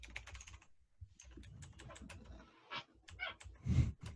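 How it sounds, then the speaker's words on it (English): Rapid clicking of computer keyboard typing during a team party game session, close and fairly quiet, in irregular bursts with brief pauses and a louder thump near the end. "Stop laughing at my typing."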